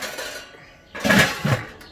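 A metal grill grate is set down onto a Weber Jumbo Joe charcoal grill with a close, bright metallic clank and a short rattling follow-up clink.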